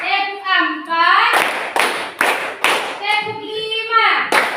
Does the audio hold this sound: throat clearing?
no